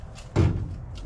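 A Volkswagen option S0-14 trailer's back gate is lowered, giving one loud, close thud with a short rattle, then quiet.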